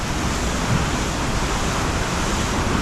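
Water from the Massanjore dam in Jharkhand gushes out with force, a dense, steady roar of rushing water that stays loud and even throughout, with no voices.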